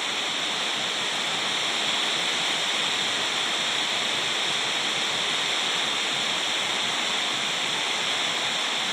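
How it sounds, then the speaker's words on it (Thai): A steady, dense roar of heavy rain and wind, broad and unbroken, with no pauses or voices. "มาทั้งลมทั้งฝน"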